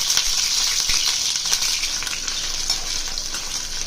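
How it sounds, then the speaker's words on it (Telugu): Washed drumstick pieces fry in hot oil, giving a steady, close, hissing sizzle that holds throughout with a few faint clicks and stirs and no talking. "ముందుగా కడిగి పెట్టుకున్న మునక్కాయ ముక్కల్ని ఇందులో వేసుకుంటున్నాను. ఆయిల్లో వేసాను."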